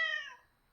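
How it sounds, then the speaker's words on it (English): A cat lets out a single loud, clear meow that starts sharply and tails off within a second, heard alone and close. "Where is this loud-ass cat?"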